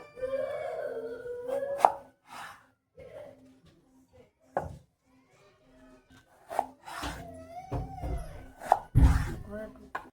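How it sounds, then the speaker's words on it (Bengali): A knife cuts an eggplant into large chunks on a board, with irregular close knocks and scraping strokes spaced out and separated by quiet gaps, and a faint voice at the start. "তো বেগুনটা এখানে আমি একটু বড় বড় করে কেটে নেবো"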